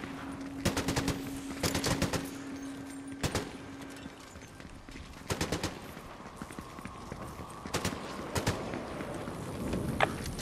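Fortnite gunfire comes in repeated short automatic bursts, loud and sharp, with gaps between volleys across the stretch. A few single shots and a faint tonal hum sit in the background.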